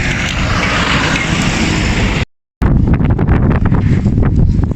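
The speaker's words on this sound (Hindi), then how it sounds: "बाहर बहुत तेज़ हवा चल रही है" Strong wind roars steadily over an elevated outdoor spot above a busy Naran market street, a dense broadband rush with buffeting on the microphone, briefly cutting out before resuming as gusty, crackling wind noise.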